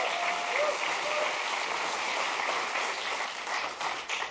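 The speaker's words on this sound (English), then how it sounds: "While I appreciate your applause" Steady, dense applause from a large keynote audience fills the room, loud and sustained before tapering slightly at the end.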